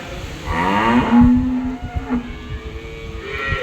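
A Friesian dairy cow gives a loud, close, drawn-out moo that swells then fades, followed by a shorter second low call over farmyard background noise.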